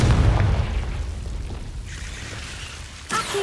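A Confringo spell explodes in Hogwarts Legacy with a loud, deep boom that rolls off into a fading rumble, followed near the end by a brief sharper crackle.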